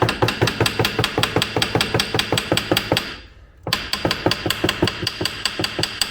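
Steady, rapid hammer blows ring out on the brake drum of a 1987 Suzuki LT300E ATV, close and loud, with a brief pause partway through before the even pounding resumes.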